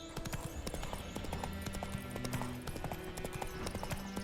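Horse hooves clip-clop steadily on the ground in The Witcher 3: Wild Hunt, a quick, close, even rhythm that carries on alone for a few seconds with faint game ambience behind it.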